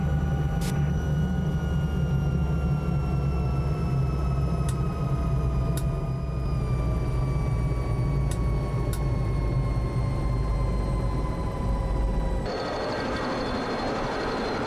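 Simulated Alouette III helicopter taxiing in Microsoft Flight Simulator 2020, a constant loud turbine whine with steady descending tones over a dense rumble, interrupted by faint ticks, and changing abruptly near the end.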